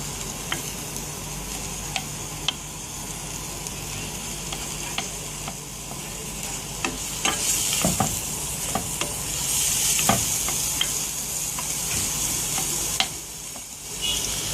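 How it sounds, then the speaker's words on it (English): Butter and onion sauté together in one pan for a chicken liver and gizzard rice dish, giving a steady close sizzle throughout with scattered utensil clicks and scrapes, and a brief louder hiss that swells near the end. "It's okay if I put the butter and the onion on the one pan on the one time, because it will melt and it will saute."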